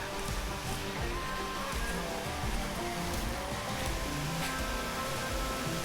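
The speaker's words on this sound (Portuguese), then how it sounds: "Cachoeira do Cedro." Cachoeira do Cedro waterfall hidden in a sugarcane field, a steady, dense roar of falling water that runs unbroken throughout, with no voices.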